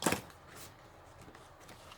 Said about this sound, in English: they shuffle really well to me